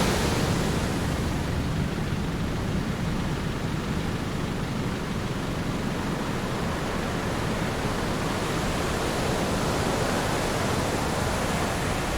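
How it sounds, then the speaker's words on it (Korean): Ocean waves roar steadily as a continuous, loud wash of surf with no breaks and no voices. "파도 한번 보여드릴게요."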